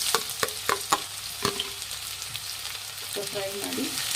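Sliced medium-size onions fry in hot oil in a pan with a soft continuous sizzle, broken by sharp clicks and scrapes of a spoon stirring up close.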